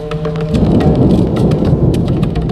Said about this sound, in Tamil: ஏழு நாளுக்கு பிறகு வானம் கருமையாகி பெரும் மழை பொழிந்தது